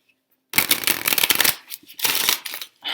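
Tarot cards are riffled and shuffled in quick bursts, crisp and close, with brief pauses between flurries and no voices.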